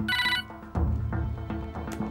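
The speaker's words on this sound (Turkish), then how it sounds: "Zili niye farklı çaldı öyle?" Close and clear, a mobile phone rings with a tonal electronic ringtone, its melodic phrases repeating in quick bursts with no voices present.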